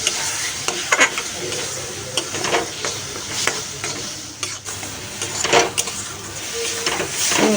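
Spice paste of tomato, green chilli, onion, garlic and cumin is stir-fried in a pan for crab curry, giving a steady loud sizzle broken by repeated scraping strokes of a spatula against the pan.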